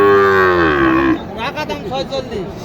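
A young cow at the Mataji cattle market in Naogaon, Bangladesh lets out one loud, long moo close by, followed by quieter muffled sounds and a voice.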